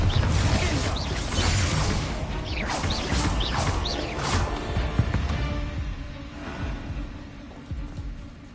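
Bombarda blasting spell cast in Hogwarts Legacy on PS5, a loud burst of crashing, smashing debris and whooshing impacts with rumbling low end, trailing off into scattered clatter and creaks.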